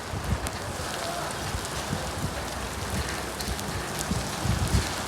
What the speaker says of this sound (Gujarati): વરસાદ હાલ અચાનક ચાલુ થઈ ગયો।